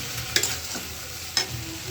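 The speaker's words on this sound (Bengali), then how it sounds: "খুব ভালো করে কষায় নিচ্ছি।" Mutton curry with reduced oil and spices is sautéed in a pan under a steady low sizzle, with two distinct spatula scrapes stirring the meat about a second apart.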